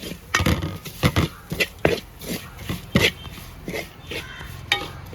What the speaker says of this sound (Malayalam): നല്ലപോലെ ഒന്ന് പച്ചിപ്പൊന്ന് മാറാൻ വേണ്ടി ഒന്ന് ഇളക്കി കൊടുക്കുക